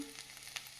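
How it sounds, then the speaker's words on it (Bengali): Crushed ginger frying in a pan gives a soft, steady sizzle, brief and fairly faint, with no talk. "আদাটা ভাজা ভাজা হয়ে গেছে"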